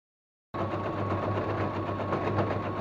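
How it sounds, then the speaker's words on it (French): Sewing machine stitching around the edge of a fabric pouch for a slate, starting after a moment of silence and then running steadily with a close, even mechanical whir. "On va coudre en laissant bien sûr une ouverture d'environ 5 cm afin de retourner, notre ouvrage."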